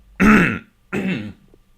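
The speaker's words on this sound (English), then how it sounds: "Just had to clear my throat there." Two rough, close throat clearings, one right after the other, fairly loud against a quiet background.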